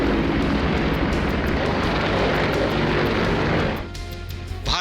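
Loud, continuous roar of Indian Air Force aerobatic aircraft, including Surya Kiran jets, performing at an air show in Colombo, a sustained broadband rush that dips near the end before swelling again.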